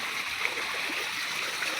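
After heavy rain in Mandropur village, water gushes up out of the ground with a constant rushing, hissing stream sound, moderately close and steady throughout.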